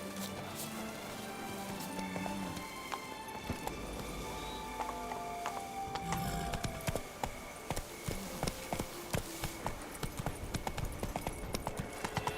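Horse hooves clip-clopping in a video game: rhythmic, sharp hoof taps that start sparse and grow into a fast, steady trotting beat over mixed game sounds.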